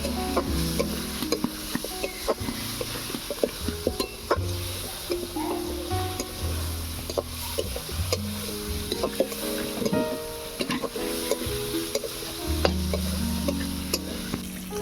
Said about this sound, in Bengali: আম দিয়ে দিচ্ছি হলুদ গুঁড়ো আমটাকে তেলের মধ্যে একটু ভেজে নেব